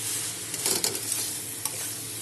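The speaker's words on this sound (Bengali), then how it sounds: "এখন আমি ভেজে রাখা ভেন্ডিগুলি দিয়ে দেব" Half a kilo of fried okra tipped into a pan of spiced masala, giving a brief clatter and stir over a steady soft sizzle, close and short, no talk.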